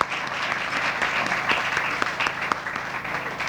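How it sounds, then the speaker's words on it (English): Steady applause from an audience at a groundbreaking ceremony for an RNG energy project in Linden, a dense continuous clapping that holds at an even level throughout. "Give yourselves a round of applause for what you did."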